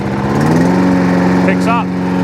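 A Hayter 56 lawn mower engine idling close by, a steady loud hum with a continuous drone, while someone talks briefly over it.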